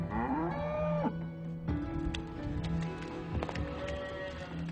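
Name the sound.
dairy cows mooing and walking to milking shed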